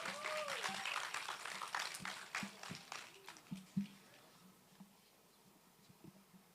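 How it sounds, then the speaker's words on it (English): Audience applause at a teen girls' summit breaks out loud and dense, then thins into a few scattered, fading claps over several seconds. "Please, can you guys give her a round of applause again?"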